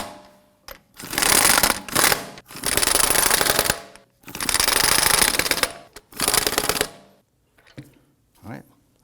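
Volvo XC90 wheel lug nuts being snugged down with a power tool: four long, loud mechanical rattling bursts with short pauses between them, then a couple of faint knocks.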